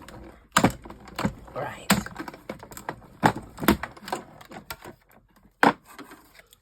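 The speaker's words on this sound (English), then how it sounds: "I'm just going to cut out again one of these shapes from the silver mirror card" Scissors snip through silver mirror card in close, sharp crisp cuts with uneven gaps between them, and a single short spoken word comes partway through.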